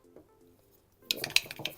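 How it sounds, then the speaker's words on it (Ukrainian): Quick metallic clinking and scraping of a whisk beating batter in a bowl, starting after a second of quiet and continuing briskly. "будемо взбивати. Ось так, от бачите, моя взбивалка"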